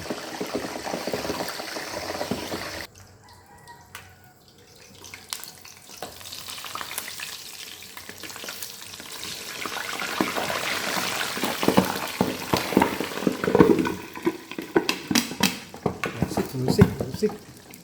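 Pork lechon lowered into hot oil in a pan, loud crackling and popping sizzle with sharp spits and bursts, utensil clatter, and voices talking intermittently over the frying.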